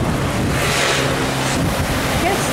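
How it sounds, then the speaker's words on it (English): Surf roars continuously at a Maine beach on the New England coast, loud broadband wave wash with heavy wind buffeting on the microphone, close and steady throughout. "ocean is kind of fierce here."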